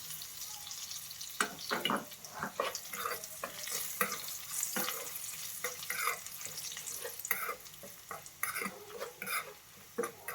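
Curry leaves and spices fry in a pan for a tamarind pulusu, giving a steady close sizzle with frequent scraping and stirring clatter throughout.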